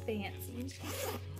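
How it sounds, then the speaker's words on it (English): A simple zipper at the top of a DKNY bag is drawn open in one quick, close, rasping pull lasting about a second, with a steady low hum underneath. "it's just got a simple zipper at the top"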